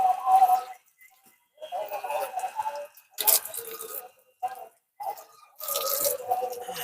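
Cold water poured over someone bathing outdoors under a tree in a village on a cold morning, splashing and dripping in several bursts separated by short pauses.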